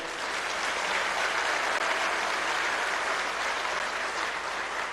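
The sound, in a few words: audience applause at university convocation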